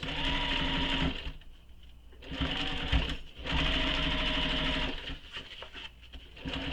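Sewing machine stitching reinforcing seams at the corner of a lined bag, running in loud, steady close-up bursts with brief pauses between runs and no talking.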